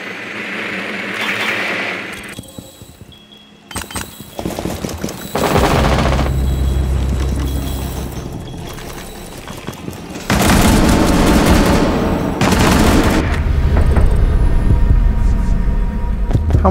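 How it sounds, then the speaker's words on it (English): Automatic gunfire in the tactical shooter Rainbow Six Siege, loud rapid bursts that come and go across the stretch, with heavy booming bass and game ambience between volleys. "How many shots did that man take?"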